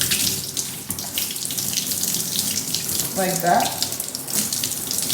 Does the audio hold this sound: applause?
no